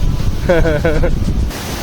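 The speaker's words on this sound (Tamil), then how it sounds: "இந்த ஐஸ் கட்டிக்கு இடையில வந்து எப்படி நீர்வீழ்ச்சி வந்து போயிட்டுருக்குன்னு பாருங்கள்" A waterfall pours between banks of ice near the China border at Lachung, Sikkim, giving a steady broadband rush with wind buffeting the microphone and a brief voice in the middle.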